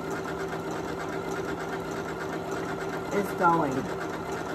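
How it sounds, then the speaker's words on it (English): A Janome Memory Craft MC9450 computerized sewing machine stitches appliqué with a steady, close mechanical whirr and rhythmic needle hum, while someone talks briefly over it. "I put my foot down because I like to sew with my foot down."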